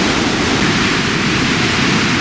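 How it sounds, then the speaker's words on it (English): Devil's Cataract at Victoria Falls roars as a loud, dense, unbroken rush of falling water, broadband and close, with no voices over it. "Devil's Cataract, which means Devil's Waterfall."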